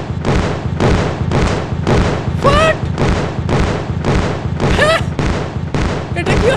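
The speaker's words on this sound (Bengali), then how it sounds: "ভাই সব ফুটে গেল তো, কিন্তু ট্রেন তো আসলোই না, তার আগেই সব ফুটে গেল ভাই" Firecrackers are set off and burst in the mobile game Indian Bike Driving 3D: a rapid, loud run of about a dozen evenly spaced pops and thuds over several seconds, some trailing whistling streaks, with a steady game backdrop underneath.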